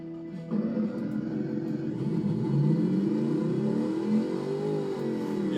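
A 60-degree V8 engine in the BeamNG video game revving up, the pitch climbing steadily from a low drone, loud and continuous with no voices.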